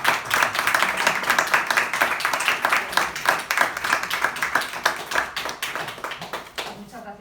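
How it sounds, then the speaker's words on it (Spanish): Audience clapping after a book presentation, a steady run of distinct, rhythmic hand claps at moderate distance that continues throughout and tapers slightly near the end, with faint voices in the background. "Un aplauso"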